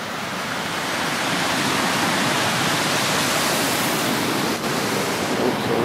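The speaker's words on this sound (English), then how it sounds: "Goodbye to our waterfall." A waterfall by a lake at a crown land campsite roars as a steady, dense, broad rush of falling water, loud and constant throughout with no voices.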